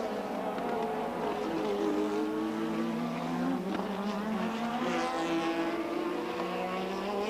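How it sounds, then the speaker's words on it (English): Formula One race cars at the 1984 Portuguese Grand Prix, a Toleman Hart four-cylinder dueling with Niki Lauda, scream past in a loud, continuous engine roar whose pitch sweeps upward as they accelerate. "So the British built and powered Tolman Hart with its four-cylinder engine against Niki Lauda"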